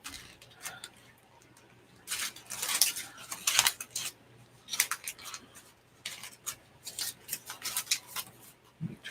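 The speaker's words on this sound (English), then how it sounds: "Let's refresh the crumpling on this a bit." Paper is crumpled and rubbed by hand for an altered book art project, with bursts of crinkling and rustling in irregular clusters, close and moderately loud with quiet gaps.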